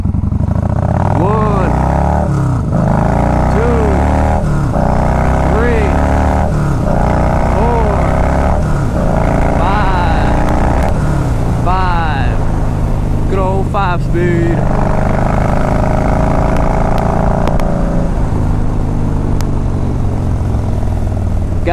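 A 2014 Yamaha Bolt motorcycle engine under riding load, loud and close, rising and falling through repeated gear changes with steady wind rumble, while a rider talks over it at times.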